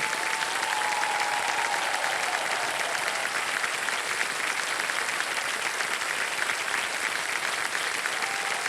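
Studio audience applause on the quiz show Kaun Banega Crorepati, a loud, continuous wash of clapping that holds steady throughout.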